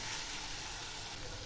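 Fried garlic and onion stirred into red amaranth greens in a hot pan, giving a steady, close, loud sizzle and hiss with no speech.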